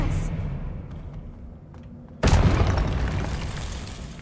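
A Confringo blasting spell explodes in a Harry Potter video game: one sudden loud boom that hits midway and rolls off into a long, rumbling decay, with a voice heard shortly before it.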